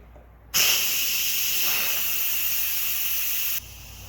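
Steam hisses steadily from the pressure release vent of an Instant Pot cooking sausage and white beans, a loud continuous rush that starts abruptly, holds for about three seconds, then cuts off.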